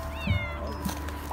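A cat meows twice in a short, close sequence, the calls rising and falling in pitch, heard indoors with no one talking.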